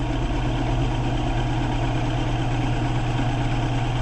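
A wood lathe spins a bowl blank at 800 RPM, giving a steady, continuous low motor hum with a broad whir above it, loud and unbroken throughout with no talking.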